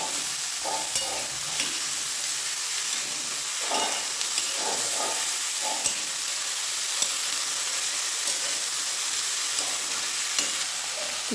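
Washed vegetables sizzling in a pan with garlic, a continuous close hiss broken by repeated scraping stirs and clinks of a spatula, no talking.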